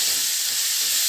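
A loud, continuous sizzle of spices and tomato hitting hot oil for a cauliflower dish, bright and hissing with a steady frying crackle and no speech.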